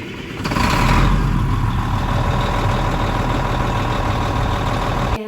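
A white Volvo truck idles steadily with a deep, constant engine rumble, loud and close, with no talk over it.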